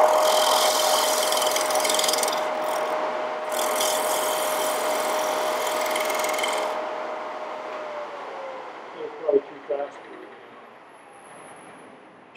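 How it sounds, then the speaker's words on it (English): A flat scraper cuts wood on a spinning lathe, producing a continuous rough rasping hiss over the motor's whine. The cutting stops partway through, leaving the faint motor hum and a few light knocks. "Flat scraper, a little guy, go in there and eliminate the dovetail"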